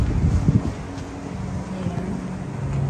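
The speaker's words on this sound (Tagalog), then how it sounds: "At malamig, mahangin." Steady low rumbling of cold wind in Taiwan buffeting the microphone, continuous and fairly loud throughout, with a few stronger gusts near the start.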